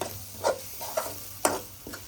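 A spoon stirs salt, turmeric and garam masala in a pan for paneer bhurji: about four soft scrapes with a faint sizzle between them, quiet and close, with no speech.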